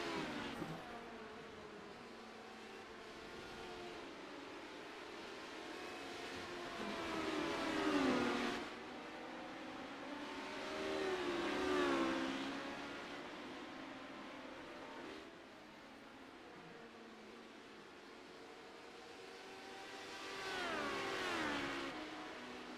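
Race cars lapping the track in a CORE Premier Series race, engines rising and fading in repeated passes, rather distant and moderately quiet, with several swells over about twenty seconds.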